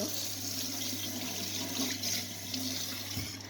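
Water runs steadily from a kitchen tap into a sink while dishes are washed, a continuous close hiss and splash filling the whole stretch.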